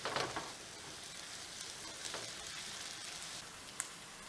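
Sliced yellow squash with sun-dried tomatoes sizzling steadily in a hot pan, a soft continuous frying hiss with occasional scraping stirs and flips, close and fairly quiet.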